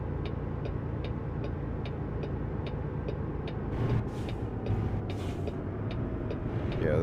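Kenworth T680 truck braking in a driving game on a Kansas to Colorado run: a steady engine drone with a regular ticking indicator, broken midway by several short, sharp bursts of air hiss.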